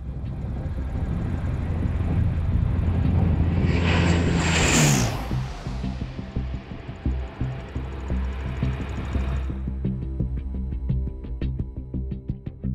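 A 50-tonne airplane landing at about 200 km/h on a makeshift desert strip gives a loud continuous engine roar that swells as it passes close, then settles into rumbling and rattling as it rolls along the ground.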